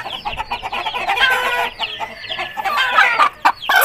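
Aseel hen clucking close by in a yard, repeated throaty clucks and squawks in quick bursts that fill the whole moment, with no talk over them.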